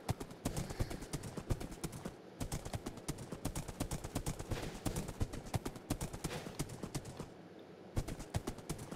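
Horse hooves clip-clop steadily in a Minecraft game, a fast even patter of hard knocks at moderate loudness with two brief pauses, no talking over it.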